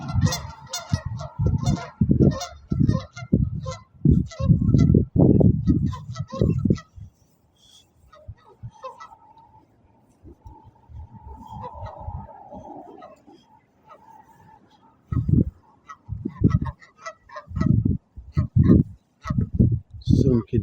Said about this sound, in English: Some Canadian geese.